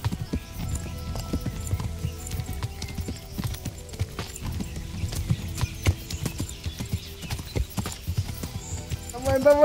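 Horse hooves clip-clop in the medieval video game Kingdom Come: Deliverance, a continuous irregular patter of footfalls over a low rumble, with a brief whinny-like tone near the end.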